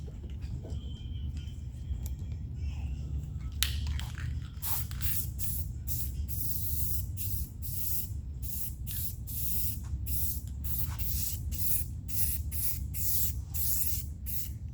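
Clear coat is sprayed from a spray gun onto freshly painted interior car parts in a series of short, sharp hissing bursts over a low background rumble, with no talking.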